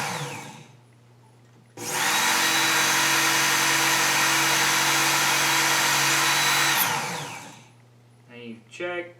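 A Work Sharp Ken Onion electric sharpener grinds a knife blade in one loud, continuous whir lasting several seconds, starting and stopping abruptly, with quiet motor hum before and faint rustling after.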